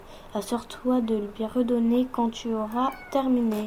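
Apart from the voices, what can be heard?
cat meowing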